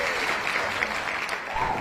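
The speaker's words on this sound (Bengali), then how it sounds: "এবার মঞ্চে ডেকে নিচ্ছি এই নাটকের নির্দেশক তথা পরিচালক চয়ন রায়চৌধুরীকে। হাততালি।" An audience at a stage drama performance applauds steadily, a dense even wash of clapping from many hands throughout.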